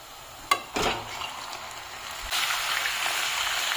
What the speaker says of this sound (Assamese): তো মাংসখিনি অলপ টাইম ভাজি ল'ব লাগিব বঢ়িয়াকৈ